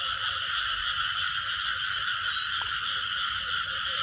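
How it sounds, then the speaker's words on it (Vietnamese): A dense chorus of male field frogs croaking continuously at night, a loud layered trill with no pauses. "ếch đực cả nhà"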